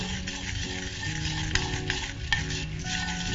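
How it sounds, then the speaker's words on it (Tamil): Peanuts stir-fried in a pan while making spicy chola pori: steady sizzling with repeated scraping and stirring strokes of a spatula, close and continuous throughout. "வேர்க்கடலை அந்த பச்சை வாசனை அதெல்லாம் போற அளவுக்கு நம்ம இதை நல்லா ஃப்ரை பண்ணி எடுத்துக்கலாம்."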